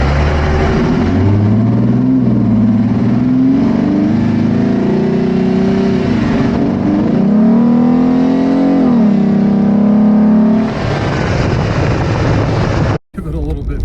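A Jeep Wrangler engine with a cold air intake, recorded from under the hood, revs loudly up close, pitch rising and falling as the throttle opens, with a sharp knock near the end.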